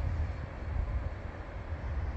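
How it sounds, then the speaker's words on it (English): A Canadian National freight train rolling past, a steady low rumble of wheels and cars, moderately distant and continuous with no talk. "we have another Canadian National rolling through here right behind him"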